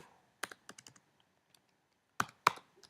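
Bursts of quick keystrokes on a computer keyboard, a few clustered clicks, a pause, then two sharper taps, close and quiet in an otherwise still room.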